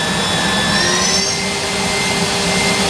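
A 2021 Kiwa KH-4500 horizontal machining center spindle spins at 12,000 RPM, giving off a steady, loud, continuous high whine with rising tonal sweeps and broadband air noise throughout.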